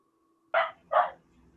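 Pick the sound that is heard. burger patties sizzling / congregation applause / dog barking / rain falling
dog barking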